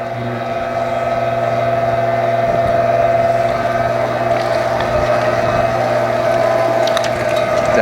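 A meat grinder churns through beef strips with a steady, loud mechanical drone and grinding hum, continuous and close, with occasional clicks and knocks from the machine.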